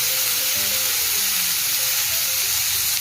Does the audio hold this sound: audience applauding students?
no